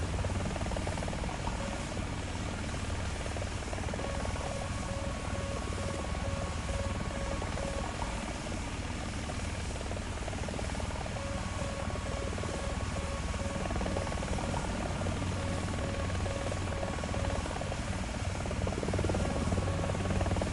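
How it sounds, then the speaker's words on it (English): An Apache helicopter flying and hovering, its dense rotor thrum and engine whine loud and continuous throughout, steady without breaks. "Let's do an Apache roll and hover."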